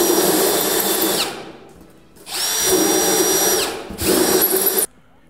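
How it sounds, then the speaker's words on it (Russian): A power drill fitted with a hole saw cuts circles from a scrap of polystyrene foam, whining loudly in three long bursts with brief pauses between. "Берем коронку подходящего размера и из какого-нибудь куска пенопласта ненужного выпиливаем"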